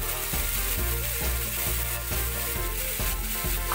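Potatoes frying in a pan with spices, a steady crackling sizzle with faint periodic clicks or scrapes of a utensil, moderately quiet and without talk.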